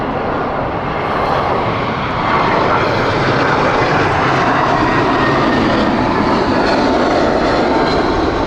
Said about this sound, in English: Right, Zagreb flight next. Airbus A320 from British Airways.